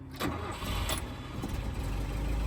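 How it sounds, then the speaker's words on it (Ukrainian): A warmed-up 1990 VAZ 2105 engine with 52,000 km idles steadily and quietly nearby, a low smooth rumble with no talking. "Дуже класно працює мотор."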